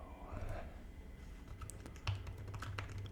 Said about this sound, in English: I forgot to get my iPad here to start typing out my actual notes.